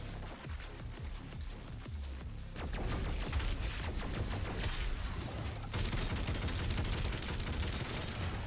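Continuous video game gunfire in Doom, heavy rapid shooting with booming blasts that grows louder partway through, with no talk over it.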